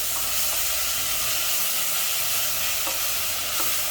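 Ginger and garlic frying with spices in oil for a mince curry, stirred in a pan with a dense, steady sizzle and a few soft utensil scrapes, close and continuous with no talk.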